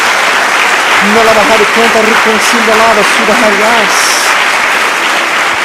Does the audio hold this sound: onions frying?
no